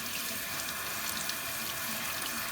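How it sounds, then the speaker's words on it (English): A kitchen tap runs steadily into the sink while sauerkraut is rinsed, a soft continuous hiss of water with no talking. "the first thing that you want to do is just rinse your sauerkraut"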